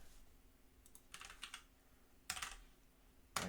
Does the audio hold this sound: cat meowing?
no